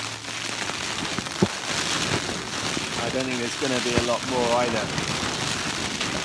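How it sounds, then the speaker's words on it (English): Rain patters steadily on a tent on Dartmoor in winter, a constant close hiss of drops on fabric with occasional louder taps, while someone talks over it. "The rain is due to stop sometime in the next hour or so."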